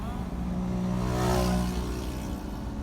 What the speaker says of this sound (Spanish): Mira cómo corre ese carro, Charalí